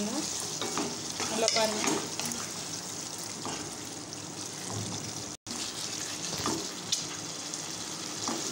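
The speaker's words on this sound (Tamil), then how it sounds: "இப்போ நல்லா வதக்கிக்கலாம்." Chettinad mutton pepper gravy sautés in a pan with a constant loud sizzle and occasional scraping stirs, while a voice speaks briefly over the cooking.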